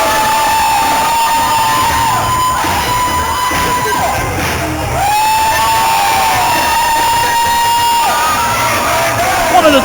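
Loud, sustained roar from a packed wrestling crowd before a WBW match between Criss Chambers and Trey Miguel, with cheering, whoops and yelling, close and continuous throughout, plus whistle-like tones rising over it.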